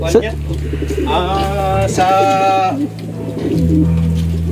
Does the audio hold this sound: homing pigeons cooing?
yes